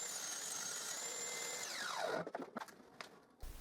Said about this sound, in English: So first I cut the edge of 3 short boards.